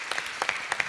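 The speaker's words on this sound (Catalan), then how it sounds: "un aplaudiment per ella" Applause for a speaker at an entrepreneurship talk, a short burst of scattered hand claps with a few louder individual claps standing out, moderately close.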